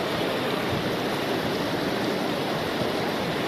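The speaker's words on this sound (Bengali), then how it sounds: "ওই দেখুন দূরে জলের স্রোত আছে, ভালো জলের স্রোত আছে" Strong mountain stream water in Pahalgam, Kashmir rushing loudly and steadily, a dense broadband roar of flowing water close by with no voices over it.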